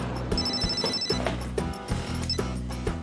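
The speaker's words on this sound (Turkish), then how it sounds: "Ben de Safiye'ye bir telefon edeyim." A telephone rings in a steady repeated pattern of bright electronic trills, fairly loud and alone, with no talk over it.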